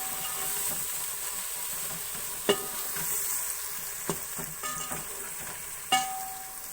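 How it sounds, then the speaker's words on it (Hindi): Garlic paste sautéing in a hot pan, a steady soft sizzle with a few sharp clinks of a utensil stirring against the pan. "अब लहसुन को थोड़ी देर भून लेंगे।"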